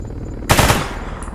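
Machine gun fire in the video game Escape From Pripyat, a loud rapid burst of automatic gunshots that starts abruptly and lasts about a third of a second, then fades into a lingering echo.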